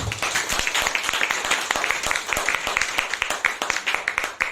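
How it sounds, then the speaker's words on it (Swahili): A church congregation claps for a woman who has just read from the Bible, with a steady patter of many hands at moderate distance. "Pigia huyo mama makofi mazuri."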